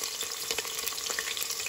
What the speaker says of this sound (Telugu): ఇప్పుడు మనం దీంట్లోకి పచ్చిమిరపకాయలు, ఉల్లిపాయలు వేస్తున్నాం.